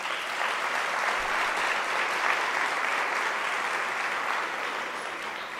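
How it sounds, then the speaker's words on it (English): An audience at a student entrepreneurship event gives sustained, even applause, a steady room-filling wash of clapping from a moderate distance that fades slightly at the end. "Can I request you to give him a round of applause?"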